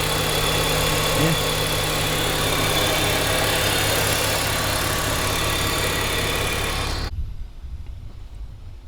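A 2.5-liter inline-six car engine idles with a steady, close rumble and hum, then cuts off abruptly near the end, leaving a quiet background.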